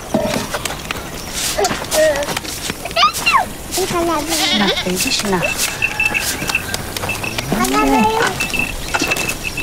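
Flock of sheep at a remote mountain village, repeated wavering bleats from several animals overlapping at close range, with people's voices and some hoof and movement noise mixed in.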